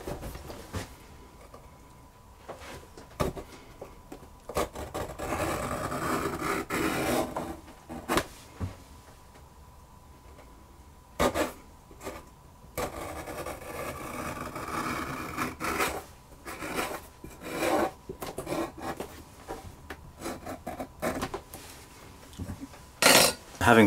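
Intermittent scraping and trimming of leather bag edges with a hand tool, short bursts separated by quiet pauses with occasional knocks from handling on a workbench.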